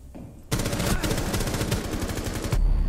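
Automatic rifle fire in the video game Rainbow Six Siege bursts in after a brief quiet, with rapid, dense shots rattling continuously for about two seconds before a heavier impact, loud and close.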